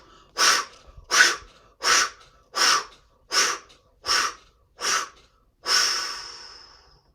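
Double fire breathing in a yoga practice: eight sharp, forceful nasal breaths in an even rhythm, close to the mic and loud, the last one drawn out longer, no talking.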